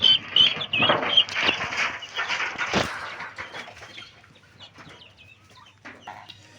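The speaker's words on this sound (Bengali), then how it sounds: "এগুলো সম্পূর্ণটা হাইব্রিড জাতের টার্কি।" Young hybrid turkeys peep in high, thin calls with a few clucks, close at first and then quieter, with some shuffling in between.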